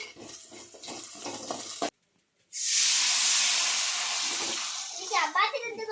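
Curry leaves dropped into hot oil with garlic and pepper, giving a sudden loud hiss after a short silence that settles into steady sizzling. Talk comes before it, and a voice returns near the end.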